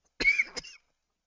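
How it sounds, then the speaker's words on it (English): A man coughs twice in quick succession, close and fairly loud, while unboxing a toy indoors, then falls silent. "He says as he coughs."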